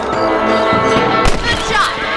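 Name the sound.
rifle shot at rabbits in Red Dead Redemption video game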